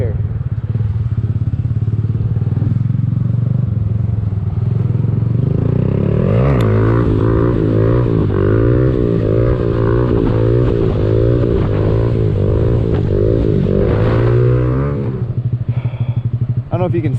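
A Honda Grom motorcycle engine idles loudly, then revs up hard and holds a high, warbling pitch for several seconds before dropping back, recorded very close with heavy wind buffeting throughout.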